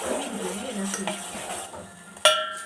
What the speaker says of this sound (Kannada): ಒಂದು ಸ್ಪೂನ್ ತೊಗೊಂಡು ಮಿಕ್ಸ್ ಮಾಡ್ಕೊಳ್ಳಿ.